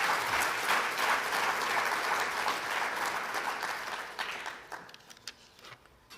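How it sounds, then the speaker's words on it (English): A large audience applauds at a formal commemorative banknote launch ceremony: dense, steady clapping that stays loud for about four seconds, then thins into scattered claps and fades to near silence. "I think today we need really to give a big round of applause to the founding members of the Constituent Assembly"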